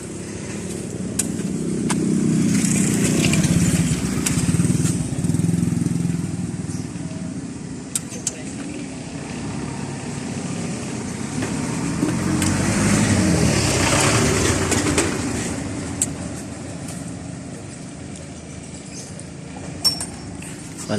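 A motorcycle engine being reconditioned rumbles and revs, its low drone swelling twice and then settling, with occasional metallic clinks nearby.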